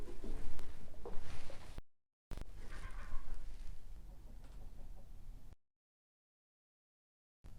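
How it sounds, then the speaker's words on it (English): A chicken clucks in short bursts outdoors, with gaps of silence between; no one speaks. "One of our neighbor's chickens was in our front yard."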